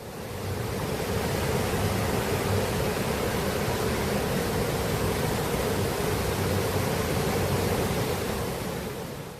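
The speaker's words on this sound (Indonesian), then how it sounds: "Asik kan ada suara aliran sungai?" A river flows past a cafe at Pendopo Ciherang in Bogor, giving a steady, loud rushing of water that holds evenly throughout with no voices.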